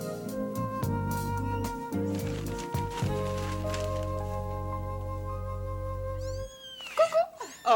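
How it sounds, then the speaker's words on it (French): A cat meows in a sustained, wavering, tonal cry that holds for several seconds, then breaks into a few shorter, rising squeals at the end, fairly close and loud. "Ah, c'est un chat."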